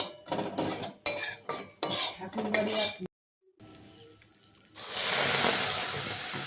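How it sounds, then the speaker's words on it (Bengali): Ganesh-brand semolina is dry-roasted with a pinch of salt in a dry kadai: a few seconds of scraping, stirring strokes, then a short pause and a steady soft hiss of roasting grains. "এবারে নুন একটুখানি ভেজে নিচ্ছি সুজি"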